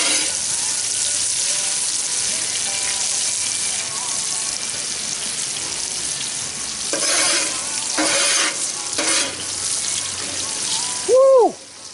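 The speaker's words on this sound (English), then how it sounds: "Garver's gonna stir that around" Food frying in a pan while being stirred, a dense close sizzle with scraping bursts, ending with a short squeaky scrape.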